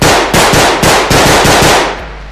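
Rapid bursts of automatic gunfire from the hyper-realistic first-person shooter Bodycam, about eight loud, sharp shots in quick succession, each ringing out and overlapping before a short decaying tail.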